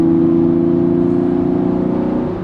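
A Golf VR6 engine decelerates after running in fifth gear, ahead of a shift down into fourth. A smooth, loud, steady harmonic hum slowly fades in volume, heard close with no talking.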